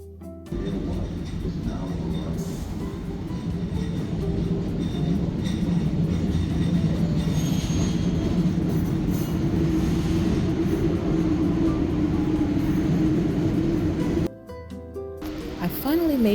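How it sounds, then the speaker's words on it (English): A Boston subway Orange Line train rumbles close and steady for most of the ride, its low roar briefly cutting out near the end before a rising wheel squeal follows. "I finally made my way to the Orange Line train, just like the bus driver told me."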